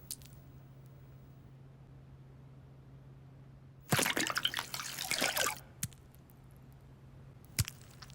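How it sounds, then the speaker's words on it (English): Pure water pours over a spoon coated with a water-repellent surface, a burst of splashing and trickling for about two seconds, then a few faint drips against a quiet background hum. "a similar coating over this spoon means simple, pure water will pick up any dirt and leave the spoon totally clean"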